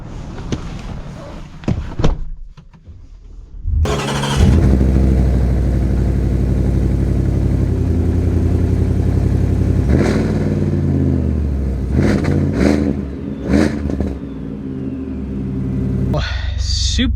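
Supercharged 2025 Ford F-150 Black Widow pickup, an XLT-based truck, revving its engine: a sharp start and slam, then a loud sustained rumbling drone with repeated throttle blips and swells, close to the microphone, with brief voices near the start.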